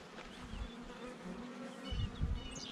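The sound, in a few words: swarm of honey bees buzzing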